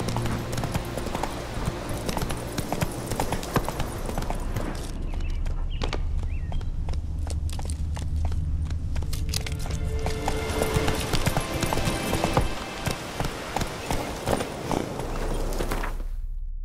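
Roach, Geralt's horse in The Witcher 3, gallops with rapid, steady hoofbeat clip-clops that stay close and prominent over ambient game music and effects, stopping just before the end.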